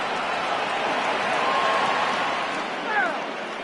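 A packed baseball stadium crowd of over 39,000 in MLB The Show 20, Cubs versus Cardinals, roars steadily on its feet, a dense continuous wash of cheering that swells slightly midway, with a couple of brief whistles rising above it.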